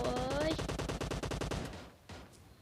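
Rapid automatic gunfire in the battle-royale game PUBG, a fast steady burst of shots lasting about two seconds before stopping, with a couple of faint later pops, fairly loud and close.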